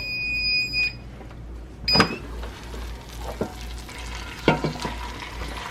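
A steak frying in beef tallow in a pan over moderate heat, giving a steady soft sizzle with a few sharper crackles and scraping stirs, fairly close and with no talking.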